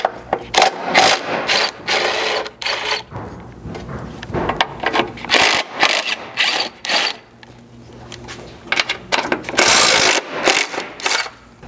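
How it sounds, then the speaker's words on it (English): A 10mm socket wrench loosening the bolt and nuts on a Ford Maverick Evap canister skid plate, giving bursts of rapid ratcheting clicks that start and stop repeatedly, close and fairly loud, with no talking. "you'll use your 10mm socket for these as well"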